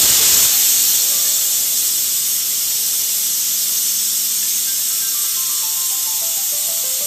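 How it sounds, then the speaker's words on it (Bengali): A pressure cooker whistle lets off steam in a loud, continuous high hiss that fades a little but keeps blowing steadily, after a quieter half-second start, with no talking. "মানে সিটি দিয়ে নেবো প্রেশার কুকারে।"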